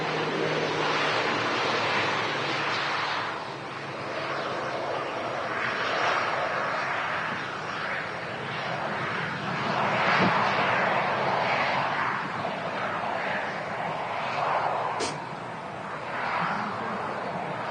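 An Air France airliner lines up on runway 23 at Manchester Airport for a flight to Paris Charles de Gaulle, giving a steady, broad jet-engine roar heard from a distance that swells and eases slightly, with no talk.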